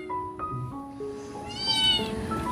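A cat meows several times in a rural provincial yard, the cries close and fairly loud over a low background murmur, the last call longer and rising.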